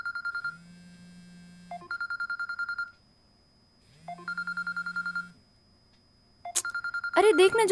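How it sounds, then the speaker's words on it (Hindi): A mobile phone ringtone repeats in clear bursts of rapid electronic tones, sounding three times close by, with a voice breaking in at the very end. "अरे देख ना ज्योति, तेरा फोन बज रहा है।"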